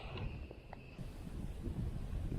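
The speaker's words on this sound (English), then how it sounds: "Oh, that wind. Howling up the river." Stiff southerly wind gusting along a river, a steady broad rush of wind noise buffeting the microphone throughout, with no voices.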